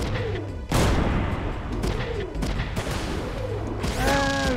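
Cannon fire from a mech in the PlayStation strategy game Front Mission 3, several heavy booming shots in quick succession, loud and close over a low game background.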